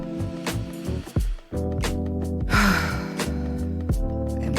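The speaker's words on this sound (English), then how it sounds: "Another breath here." A slow, deep breath drawn in and released during a guided meditation, heard as an audible inhale followed by a long exhale over steady background music.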